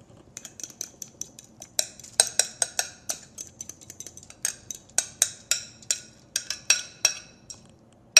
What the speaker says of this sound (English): I'm now going to spread it evenly onto my foil-lined and sprayed sheet pan.